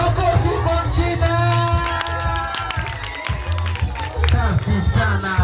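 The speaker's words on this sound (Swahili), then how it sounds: "Makofi kwa Mchina" Children's nursery school graduation audience claps and cheers in a lively mix of applause and crowd noise that runs throughout, with voices and some music mixed in.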